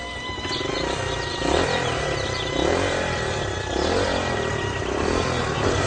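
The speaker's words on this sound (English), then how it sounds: "Small vehicle engines," A small gasoline engine revs repeatedly in surging bursts, a steady buzzing drone that rises and falls about once a second, close and fairly loud with no voices.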